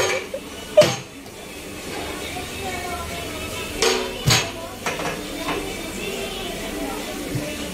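Chicken kuzhimanthi rice is mixed in a hot pot, making loud metallic clanks and scrapes at an irregular pace while a person keeps talking over it.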